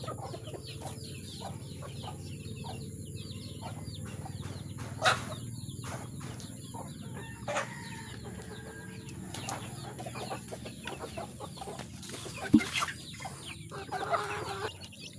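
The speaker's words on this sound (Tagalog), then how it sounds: "Parang yung mga sisiyo ko, umiyak pa, parang bitin pa sa kinain nila kanina, pakakainin ko ulit." Pet chicks cheeping while being fed, a busy stream of small high chirps and peeps with occasional louder calls and clucks, moderately near and carrying on without talk.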